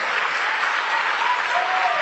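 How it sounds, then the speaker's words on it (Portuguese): A church congregation applauds for Jesus, sustained close clapping from many hands that stays even throughout a couple of seconds. "Vamos aplaudir mais o Senhor Jesus."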